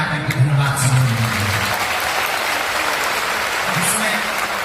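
A large audience at a Bageshwar Baba Katha gathering claps in sustained, dense applause honouring a martyred soldier's family, a continuous wash of hand claps with a voice briefly heard over it.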